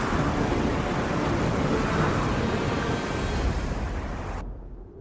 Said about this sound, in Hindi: ये तूफान तब तक थमना नहीं चाहिए जब तक वृंदावन पूरी तरह पानी में डूब न जाए।